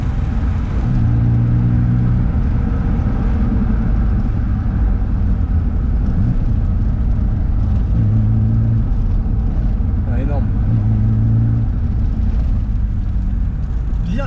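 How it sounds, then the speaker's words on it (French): A BMW Alpina engine rumbling loudly from inside the car, with deep exhaust tones rising and falling as it revs under the steady drone. "le son de l'échappement, il est vraiment propre"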